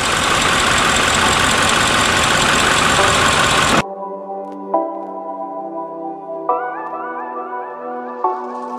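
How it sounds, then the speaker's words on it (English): A salvage Audi RS6 engine runs just after being started: a loud, dense mechanical roar for a few seconds, then a quieter, steady idle with a few soft clicks and pitch steps. "Finally got it started."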